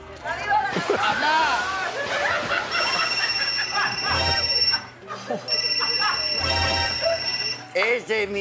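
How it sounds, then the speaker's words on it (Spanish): A mobile phone ringtone plays in repeating bursts of bright electronic tones, mixed with excited voices and laughter. "Ese es mi teléfono."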